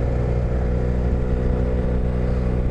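A 2017 Yamaha TMAX530 scooter cruises along a town park road, with a steady, loud engine drone and road and wind rumble throughout and no talking.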